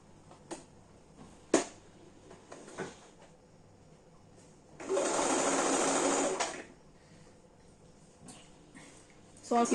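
Domestic sewing machine stitching a ruched top in one steady burst of about two seconds, close and loud, set between quiet handling clicks and fabric rustles.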